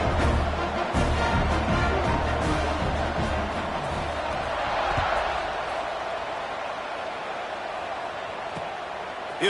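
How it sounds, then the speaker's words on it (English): Steady roar of a college football stadium crowd buzzing after a score at a Kentucky vs North Carolina game, a dense continuous wash of voices at even loudness throughout with occasional louder bursts. "this crowd is buzzing after that last score"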